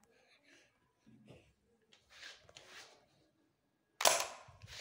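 A single sharp gunshot rings out near the end of the Bigfoot video game sequence, loud and close, after a stretch of faint rustling and breathing-like sounds.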